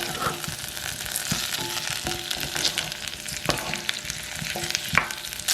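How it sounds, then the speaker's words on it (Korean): Garlic and cherry tomatoes sizzling and frying in a pan, a steady hiss with scattered pops and the scrape of stirring throughout. "방울토마토를 넣어 볶은 마늘과 잘 섞어주시고요."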